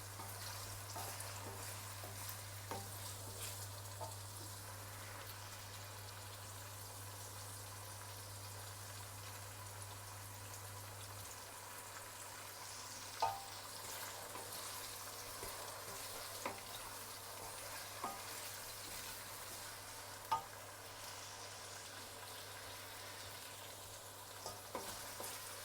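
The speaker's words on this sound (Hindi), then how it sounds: "अभी हम इसमें थोड़ा सा पानी डाल के इस मसाले को हम भून लेंगे" Masala with a little water sizzles and is stirred in a pan for aloo biryani, a soft steady frying hiss with occasional scraping stir clicks, and a low hum fades out partway through.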